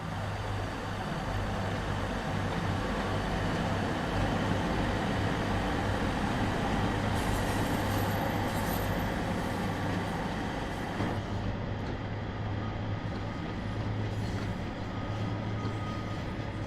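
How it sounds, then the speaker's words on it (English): Steady diesel drone of a Class 150 multiple unit under way in Train Sim World 2, a continuous low engine hum and track rumble, even and moderately loud, with no talking. "Now, to me, this train sounds and looks pretty good."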